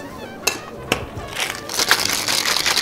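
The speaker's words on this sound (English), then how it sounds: "And then we're going to proceed to shake it up." A Red Raider cocktail with grenadine is shaken with ice in a cocktail shaker: a few sharp knocks, then a rapid, loud rattling of ice building toward the end.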